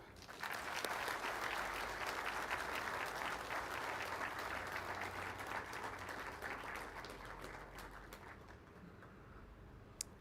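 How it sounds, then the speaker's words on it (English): A large audience applauding at an Isuzu 50th anniversary celebration event: dense, steady clapping from many hands, sustained for about eight seconds and then thinning out toward the end. "Allow me to ask you all to join me in applauding all our customers."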